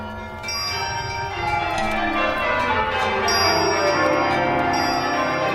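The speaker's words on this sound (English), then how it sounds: "The bells ceased as they had begun, together" Many church bells ring together in a loud, overlapping peal, their tones sustained and blending with bright high chimes throughout.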